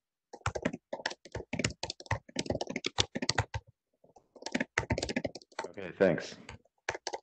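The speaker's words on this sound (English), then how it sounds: "Somebody's typing a bunch." Computer keyboard typing in the background of an online working group meeting, in bursts of rapid clicks interleaved with a person speaking.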